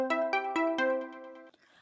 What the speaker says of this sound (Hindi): मम्मी जीआई का फोन है।